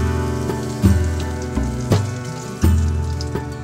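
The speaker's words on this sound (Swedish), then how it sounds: "Sedan är det dags att steka kantarellerna." Chanterelle mushrooms frying in a pan over a camp stove, a continuous close sizzle with occasional louder crackles and bursts as they are moved around.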